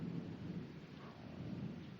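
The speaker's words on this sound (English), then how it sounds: "it's raining, I think. I don't know if y'all can hear that, but yeah, it's got a little thunder in there" Steady rain falls with low rumbles of thunder rolling underneath, a continuous moderately quiet wash of noise with no voices over it.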